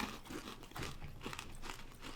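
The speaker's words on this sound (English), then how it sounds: "The flavor is excellent when I first bite into it. I love the crunch." Someone chews a crunchy Butterfinger candy bar close up, with repeated soft crunching and crinkling bursts in an uneven rhythm and no talk.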